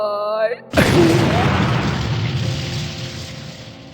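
An explosion bursts in suddenly after a short tonal sound, a loud, close boom that drops into a long rumbling roar and slowly fades out.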